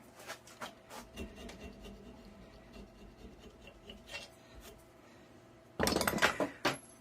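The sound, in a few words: scraping out old residue from a pump wet end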